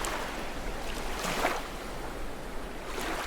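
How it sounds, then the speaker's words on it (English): Shore waves rise and fall on a beach in a witch academy RPG video game, a steady hiss of surf with one fuller wash swelling in the middle. "Another one is shore waves rising and falling on the beach."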